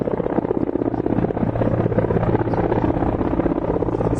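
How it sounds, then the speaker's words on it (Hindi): Mi military helicopter flies during an army joint exercise in Leh, its rotor giving a loud, steady thudding drone with a constant low hum that holds for the whole stretch. "ये जो MI हेलीकॉप्टर देख रहे हैं आप"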